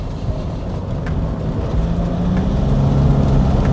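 A Toyota Kijang Innova with a 2KD diesel engine hums steadily as heard from inside the cabin, a low continuous drone that gradually grows slightly louder, with no talking.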